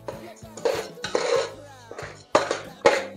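Mini Mogra rice with turmeric being dry-roasted in a pan, a run of close metallic clinks and scrapes from a spoon against the pan, coming in short bursts with brief pauses and a faint voice beneath.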